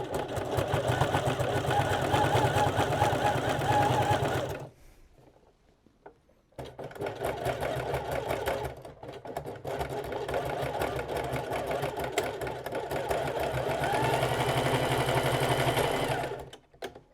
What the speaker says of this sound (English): look in your instruction manual what are the settings for your buttonhole stitch function, and then by that you can do your buttonholes.